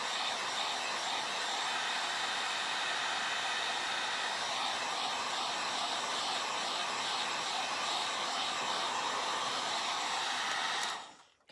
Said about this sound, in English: Let me get my heating gun here. And we'll try to dry the front of it as much as we can.